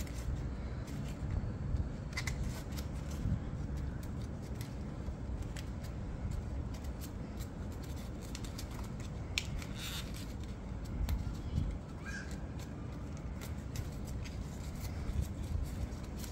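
Paper being folded and creased by hand to form the air intakes of an origami F-15 Eagle, soft crinkles and scrapes in irregular bursts, close and fairly quiet.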